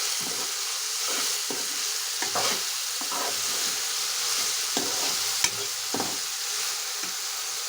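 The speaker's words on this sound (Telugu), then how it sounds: "బీరకాయ ముక్కలు నూనెలో మగ్గుతున్నాయి కదా ఇందులోకే సాల్ట్ వేసుకుంటున్నాం" Ridge gourd pieces frying in oil with salt added, stirred in the pan: a constant hiss of frying broken by repeated scraping strokes and a few sharp clicks of the spoon, close up with no voices.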